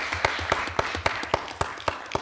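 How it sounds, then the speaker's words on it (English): A small audience at a council meeting applauds, giving a short run of distinct, separate claps from a few hands, close by and evenly spaced. "Let's give them applause."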